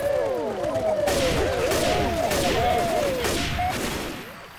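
Rapid gunfire in Left 4 Dead 2, dense bursts of shots firing continuously over several seconds, with shrill wavering cries layered throughout the close, loud barrage.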